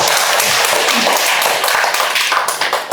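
A dense wash of audience clapping fills the hall at a talk or lecture, steady and loud from start to finish with a slight dip near the end.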